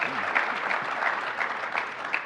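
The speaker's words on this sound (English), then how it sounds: "Round of applause." An audience at a broadcasting industry conference applauds steadily, with brief voices faintly audible beneath the clapping.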